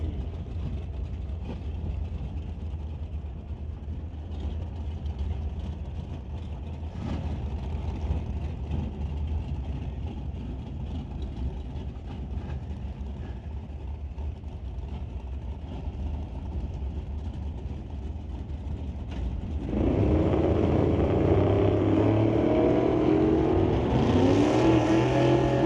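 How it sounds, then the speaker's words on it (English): A 1962 Chevy II and a 1965 Nova wagon at a drag strip, steady engine rumble idling at first, then a sudden loud surge of revving engines that keeps climbing in pitch toward the end. "Daryl Tippy brings up the Horizon Paint and Auto Body 1962 Chevy 2. Racing Cassie Tippy in the 65 Nova wagon."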